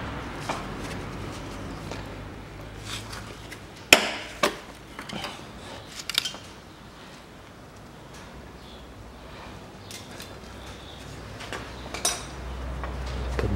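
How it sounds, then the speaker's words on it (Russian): A flathead screwdriver pries a hose clamp off a 2003 Toyota Caldina engine during assembly, giving a few sharp, close metallic clicks and scrapes spaced out over a quiet background. "отрываю этот хомут"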